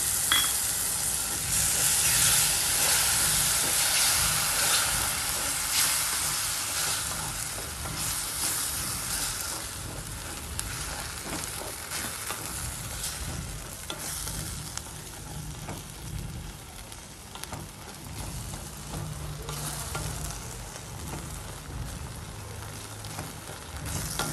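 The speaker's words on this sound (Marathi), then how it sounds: "आता आपण जी टोमॅटो प्युरी घालूया" Tomato puree, two tomatoes ground to a paste, frying in a pan for a spicy dhaba-style okra masala, with a steady close sizzle and repeated spoon stirring scrapes throughout, loudest at the start and easing slightly later, no talking.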